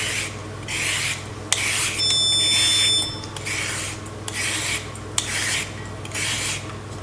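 A carrot is cut into strips for a beetroot salad, giving a steady run of about eight rhythmic rasping strokes, close and crisp, with short pauses between them.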